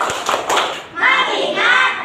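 A school class does a short clapped focus chant, a few quick sharp claps followed by voices chanting together up close.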